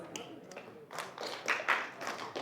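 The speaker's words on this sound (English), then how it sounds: "if you can hear me, clap once." A small group of people in a session room clapping once in response to a request, a quiet scattering of separate claps rather than one crisp unified clap.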